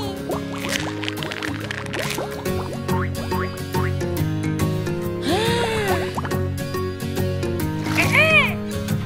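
Water drips and light splashes at a cartoon bath time, bright and plinking, sounding beneath a cheerful song with children's singing voices throughout.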